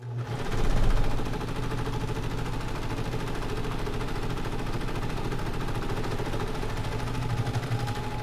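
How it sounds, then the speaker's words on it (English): A sewing machine with needles and knives stitches a bag in a fast, continuous mechanical rattle that stays steady and close throughout, with no voices. "Needles up. Knives up. Pressure foot down and sew."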